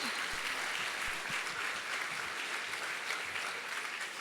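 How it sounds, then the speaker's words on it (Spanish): A church congregation applauds during a worship service, giving an offering of clapping. The applause is a steady, diffuse wash from a large group, fairly distant and moderate in level, without speech over it. "Denle una ofrenda de palmas al Rey"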